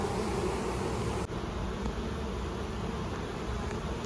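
Honeybees newly installed in a hive box swarm around and beneath the propped-up lid, making a dense, steady buzz close by that holds without a break and carries no voices.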